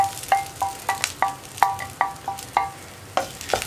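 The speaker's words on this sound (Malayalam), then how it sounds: "വെണ്ടയ്ക്ക ചേർത്തിട്ട് നന്നായിട്ട് ഇളക്കി മിക്സ് ചെയ്യുക" Okra being stirred into a coconut masala in a pan: a series of quick, ringing metallic scrapes and taps of a spoon against the pan at a brisk, uneven pace, close and distinct over a faint sizzle.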